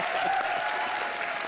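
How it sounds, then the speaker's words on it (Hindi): Loud, dense applause from a comedy-show studio audience, a steady wash of clapping that continues evenly throughout, with no voices standing out. "खैर जोरदार तालियां कृष्णा सुदेश और अमर के लिए"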